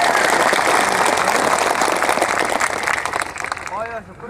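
Crowd clapping at a political rally in Assam, a dense, loud burst of applause filling the space before easing off, with a voice speaking over the fading end.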